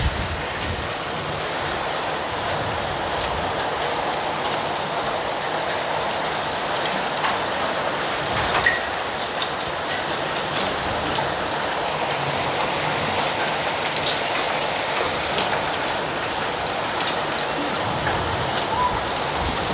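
Fierce hailstorm pounding down, a dense, steady roar of countless impacts with sharper individual strikes popping out, loud and unbroken throughout.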